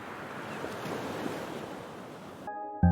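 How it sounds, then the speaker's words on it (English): Soft waves wash onto a shore in a steady, gentle surge in the video game The Survivalists, with a few brief musical tones chiming in at the very end. "it's just beautiful watching the water softly crash onto the shore"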